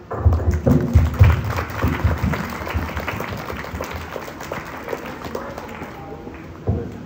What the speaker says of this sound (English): give yourselves a round of applause for a job well done